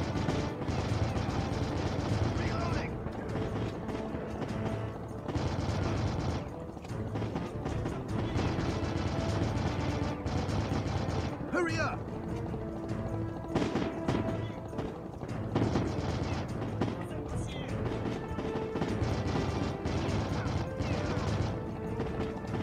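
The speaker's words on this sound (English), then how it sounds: "This gun does not sound any more dangerous than it did before." Gunfire from a weapon in the video game Heavy Fire: Shattered Spear, with repeated loud cracks and crashing impacts throughout, layered over a dense, noisy battle soundscape.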